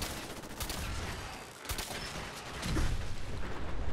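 Gunfire in the video game Fallout 4, a dense, continuous burst of shots with a brief lull before it picks back up and swells louder toward the end, set against steady game background noise.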